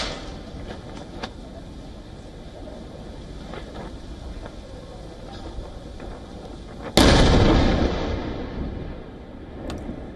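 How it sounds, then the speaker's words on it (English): Israeli air defense intercepts incoming Iranian missiles over Tel Aviv at night: a low rumbling background with scattered faint pops, then one sudden loud blast that rolls and fades slowly. "Israeli air defense systems were seen shooting down incoming projectiles from the Iranian land"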